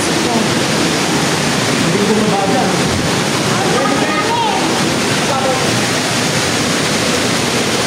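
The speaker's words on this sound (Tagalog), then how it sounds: "May naririnig tayong agos ng tubig" Water rushing in a stream, a steady broadband roar lasting the whole stretch, with people talking over it close by.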